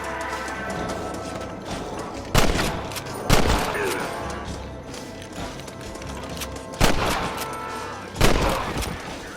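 Gunfire in Red Dead Redemption, a few sharp separate shots standing out over a busy background of clatter and ambient game noise.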